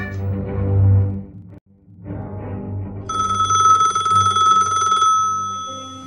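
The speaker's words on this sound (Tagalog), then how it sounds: "Telepono." An electronic telephone ring sounds loudly and steadily for a couple of seconds after a low rumble and a brief pause.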